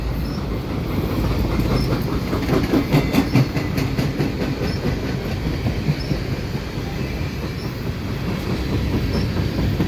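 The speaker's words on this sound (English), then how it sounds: "There you have some mixed freight, tankers and hoppers." A CPKC mixed freight train of tank cars and hopper cars rolls past near Dorval, with a steady loud rumble and a continuous clickety-clack of wheels over rail joints throughout.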